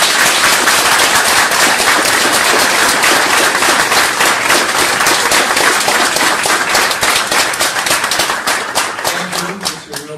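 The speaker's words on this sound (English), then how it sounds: "let's welcome Yaron Brook with our warmest applause" Loud, dense applause welcomes lecturer Yaron Brook at a talk on the Scandinavian welfare model, sustained for about ten seconds of rapid crowd clapping before it begins to thin and fade near the end.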